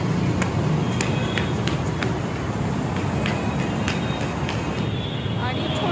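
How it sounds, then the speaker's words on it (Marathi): Steady road traffic on Sinhagad Road beside a small garden, a continuous rumbling roar of passing vehicles with a few sharp clicks over it. "त्यामुळे गाड्यांचा फार आवाज येतोय"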